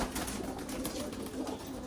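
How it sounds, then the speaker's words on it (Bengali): Dowaj pigeons cooing in a rooftop loft, close and continuous, with soft repeated coos over a steady background hum. "দোয়াজ পায়রা, দেখো"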